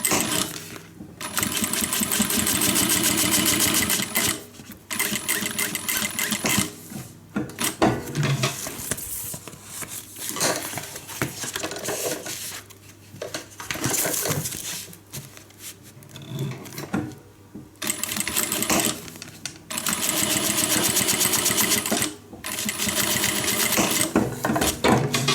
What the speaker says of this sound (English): I'm going to top stitch both sides of that with my longer stitch length